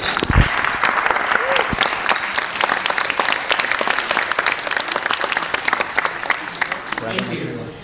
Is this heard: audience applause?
yes